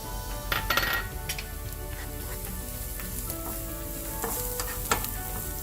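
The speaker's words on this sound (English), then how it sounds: "As our onions brown, we're going to add the ginger garlic, diced pieces." Diced ginger and garlic frying with browning onions in a pan, a steady close sizzle broken by stirring scrapes and a few clinks of utensil on metal, with no talking.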